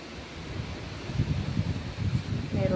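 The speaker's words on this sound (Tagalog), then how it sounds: "Lakas ng hangin dito guys" Strong wind buffets the microphone outdoors in a backyard where saba bananas are harvested, a low rumbling gusty roar with rustling that swells toward the end.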